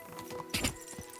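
Horse in Kingdom Come: Deliverance II gives a brief whinny with a few hoof clops, fairly faint and close by, with no talking over it.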